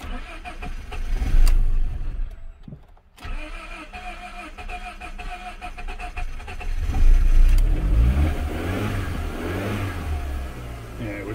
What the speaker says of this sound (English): Flooded from fuel, that's why it was cranking so odd too